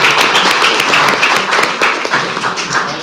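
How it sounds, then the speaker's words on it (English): Applause during an El Centro city council meeting, a close, loud and steady patter of many hands clapping together for a few seconds with no talk over it. "You get a round of applause."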